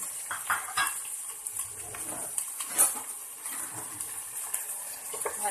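Chicken tinola being stirred in a pot with vegetables and aromatics, a close, steady run of scraping, clinking and soft wet sloshing, with a faint sizzle beneath and no talking.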